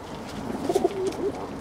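Pet birds coo softly in an outdoor enclosure after a predator's attempted break-in, a few low rounded coos bunching together near the middle over quiet background hiss, with no talking.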